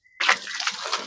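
Water splashes suddenly onto a bus being washed, a close burst of spray that continues as a steady sloshing wash after a quiet start.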